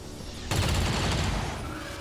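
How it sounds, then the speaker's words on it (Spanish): Explosive weapon fire in the video game XCOM 2, starting abruptly with a loud burst that turns into a rattling fusillade and a rumbling tail, with no talk over it. "Tú vas a utilizar tu acción explosiva para disparar a ambos."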